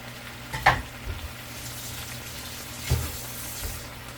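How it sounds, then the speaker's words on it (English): Chipotle in adobo mixture going into a hot cooking pan, a steady sizzle broken by a sharp hit of added food and a later stirring scrape. "And we start adding our chipotle. mixture in."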